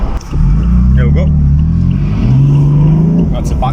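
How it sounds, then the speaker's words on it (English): A BMW M4 F82 coupe with a manual gearbox accelerates hard under full throttle, its exhaust giving a deep, loud, sustained roar that climbs in pitch, heard from inside the car. "You've got to really floor it to make the exhaust pop."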